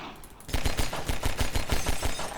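Rapid automatic gunfire shooting out windows in Half-Life 2: Lost Coast, a close, loud burst of about a dozen evenly spaced shots starting abruptly after a brief quiet moment.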